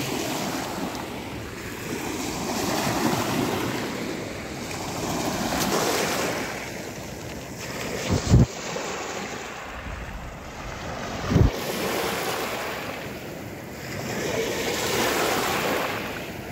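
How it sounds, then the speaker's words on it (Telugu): Waves wash along the River Thames at Greenwich, a continuous rushing swell with heavy wind buffeting the microphone and a couple of brief thumps, with no voices over it. "రివర్ అయినా అలలు వస్తున్నాయన్నమాట"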